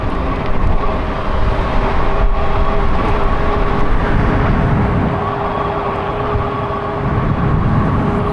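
An Amtrak or Metrolink passenger train runs between Santa Ana and Tustin at about 90 mph, a loud steady rumble with wheel and rail noise that holds throughout, heard from close by.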